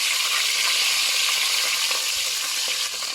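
Steady, close sizzling of fish frying in hot oil, a dense crackling hiss with small pops, no voices.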